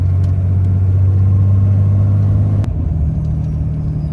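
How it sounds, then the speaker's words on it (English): Ram Cummins 6.7L diesel truck with a rebuilt turbo, running with the turbo brake engaged in tow haul mode: a loud, steady low engine drone that drops slightly in pitch after a brief click partway through. "turbo brake's engaged with the tow haul mode"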